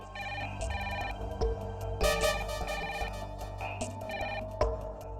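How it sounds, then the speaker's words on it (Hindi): A telephone rings in a home, its repeated electronic ringtone bursts sounding loud and close, with no voices. "फोन की बेल सुनाई नहीं देती?"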